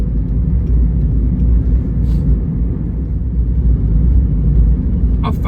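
A CNG car cruising on a highway, heard from inside as a steady, loud low engine and road rumble that holds evenly throughout, with a brief higher rush of noise near the end.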